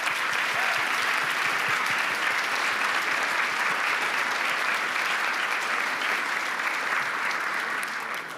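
A large hall audience at the Munich Security Conference gives sustained applause, a dense even roar of clapping holding steady for several seconds before easing slightly at the end.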